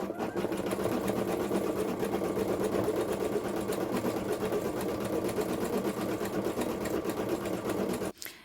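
Sewing machine embroidering a photo with thread, its steady, rapid mechanical whirring and needle clatter running continuously at close range before stopping abruptly near the end.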